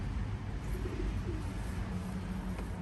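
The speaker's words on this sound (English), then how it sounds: "That's him squeaking away there" A young racing pigeon gives faint, thin squeaks while held in a hand. The squeaks sit low under a steady, loud background rush.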